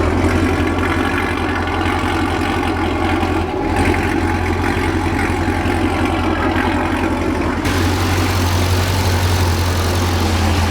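A widebody C6 Corvette engine runs at idle close by, a loud, steady low rumble with a deep throbbing undertone that firms up partway through and holds without talking.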